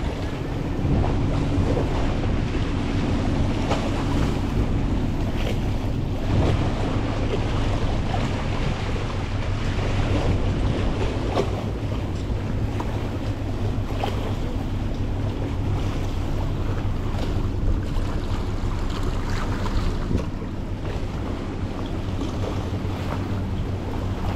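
Strong sea waves surge and wash around a small boat off Pulau Rimau while gusty wind roars across the microphone, a loud, unbroken churn with no voices.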